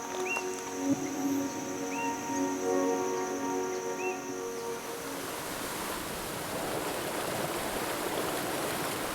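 The Rio Preto cascades over rocks at Sete Quedas waterfall in Chapada dos Veadeiros National Park, Brazil, making a steady, dense rushing roar. Soft tonal music plays over it at first, then fades, leaving the water alone.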